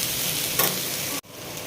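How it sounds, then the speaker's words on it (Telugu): Ivy gourd (dondakaya) pieces frying on a low flame give a steady, close sizzle with a brief louder burst of crackle, then the hiss cuts out abruptly and resumes. "దొండకాయ ముక్కల్ని ఈ విధంగా మగ్గించుకోవాలి. సిమ్లోనే పెట్టి మగ్గించుకోవాలి."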